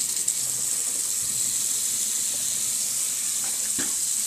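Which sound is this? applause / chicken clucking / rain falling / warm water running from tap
warm water running from tap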